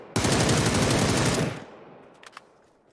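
A long automatic burst rips out of a gun in the video game PUBG, rapid evenly spaced shots for over a second, followed by a fading tail and a couple of faint clicks.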